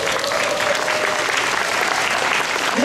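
A large kickoff event audience applauds the OTG leaders, steady close clapping that holds at an even level from start to finish, with a brief voice faintly audible beneath it.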